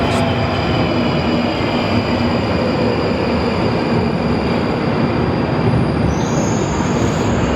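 London Underground Night Tube train running on the Northern line route from Waterloo, a loud, steady rumble of wheels and carriage noise filling the whole stretch, with a high squeal of wheels rising near the end.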